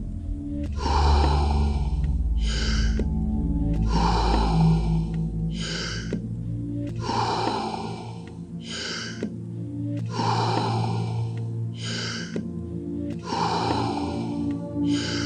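Wim Hof method deep breathing, rhythmic cycles of strong inhalations followed by quick exhalations, repeating steadily and close up, with a low ambient hum underneath and no talking.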